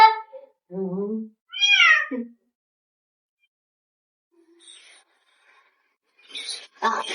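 A cat meows several times in quick succession, clear and close, with rising and falling tonal cries, followed by a long quiet gap and then some faint voices and rustling near the end.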